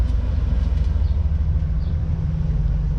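Steady low rumble and rolling drone of a train at the Grand Canyon Railroad station in Williams, Arizona, continuous and fairly loud with no talking.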